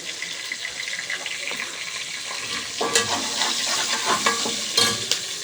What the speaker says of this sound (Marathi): मिरची घातल्यानंतर जरा हलवून घ्यायचं, म्हणजे तिचा खमंग असा सुगंध दरवळतो।